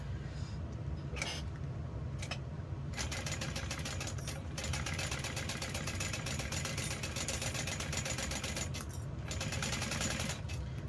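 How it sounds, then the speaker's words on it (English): A domestic sewing machine runs steadily through vinyl at a long stitch length, a continuous fast mechanical whir with a few brief pauses, close and fairly quiet, no talking. "Haven't sewn on this machine in quite a few days"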